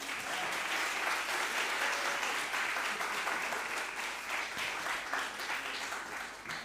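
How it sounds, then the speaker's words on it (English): A crowd at an art exhibition opening ceremony gives a sustained round of applause, a steady wash of many hands clapping at a moderate distance throughout. "Another round of applause for Jamaica."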